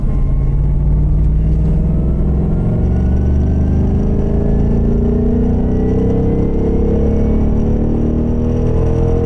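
Ford Mustang Bullitt accelerating on a cone driving course, its V8 engine a loud, continuous, deep rumble that climbs steadily in pitch as it gathers speed, with no voices over it.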